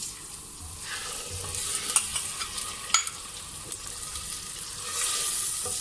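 Boneless chicken frying with browned onion and garlic-ginger paste, a steady close sizzle broken by several sharp stirring clatters and scrapes, no voices.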